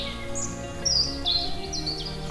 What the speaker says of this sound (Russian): а пение птиц громче